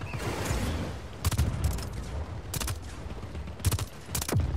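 Heavy cannon fire aimed at a helicopter in the video game Just Cause 4: several loud, sharp blasts in irregular bursts over a steady rumble of background battle noise.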